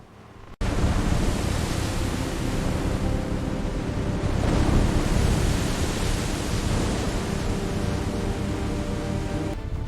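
A stormy sea roars with crashing waves, wind and rain in a dense, loud wash of noise, beginning abruptly after a short quiet moment and swelling slightly midway.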